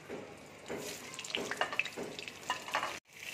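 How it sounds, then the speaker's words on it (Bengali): Hot oil sizzles and crackles steadily as papaya pieces fry in a pan, with stirring scrapes and a brief cut near the end; no talking. "এবার আমি পেঁপেগুলো দিয়ে দিচ্ছি তেলের মধ্যে।"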